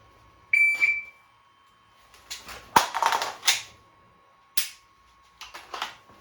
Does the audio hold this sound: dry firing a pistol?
yes